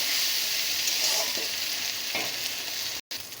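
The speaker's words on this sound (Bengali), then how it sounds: "দিয়ে এটা একটু তেলের সঙ্গে ভেজে নেব।" Onion with a spoonful of ginger-garlic paste frying in oil, a close, steady sizzle with soft scraping from stirring, continuous until a brief cut near the end.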